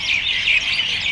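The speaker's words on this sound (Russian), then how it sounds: "Прям слышно, как они щебечут." Flock of birds chirping and twittering together on an evening walk in Bukhara, Uzbekistan, a dense, continuous high-pitched chatter heard close and steady, with no voices over it.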